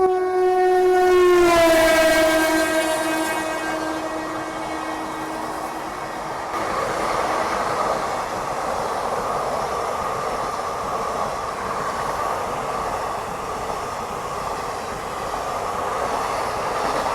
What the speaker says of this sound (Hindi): बाकी इस तरफ से भी कोई ट्रेन आ रही है